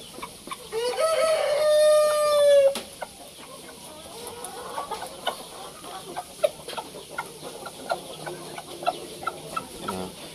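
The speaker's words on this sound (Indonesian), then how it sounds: "ini gaya-gaya pejantan ketika ngerayu betina biar mendekat ini" A Shamo rooster with black mottled plumage crows loudly once in a long drawn-out call, then follows with soft, scattered clucks and murmurs as it courts a hen nearby.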